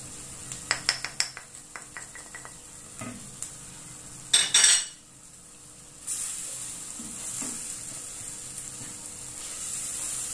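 Chicken frying in a pot for a light vermicelli dinner, with spices added: sharp metal clinks of a spoon against the pot, a few stirs, then a steady close sizzle, no voices.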